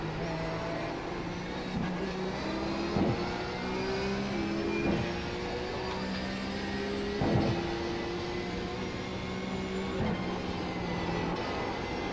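Porsche 911 GT3 race car engine in the iRacing sim at Phillip Island, a steady loud drone with rising and falling revs and brief gear shifts, continuous throughout with no talk.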